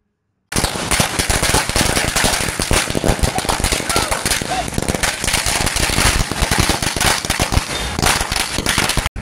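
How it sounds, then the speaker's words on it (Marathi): Rapid, loud firecrackers bursting continuously in dense crackling volleys at a political celebration with slogan-chanting in Buldhana, India, voices faintly mixed into the din. "संजय गायकवाड यांच्या जनसंपर्क कार्यालयासमोर शिवसेनेच्या पदाधिकारी व कार्यकर्त्यांनी फटाके फोडत घोषणाबाजी करत जल्लोष साजरा केला."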